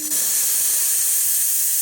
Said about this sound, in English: Steam is working great.